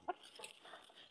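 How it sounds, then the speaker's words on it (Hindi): Desi chickens give a few soft, brief clucks, faint and fairly close, with a sharper cluck at the start and quieter calls following. "देखिए भाई प्योर देसी मुर्गे।"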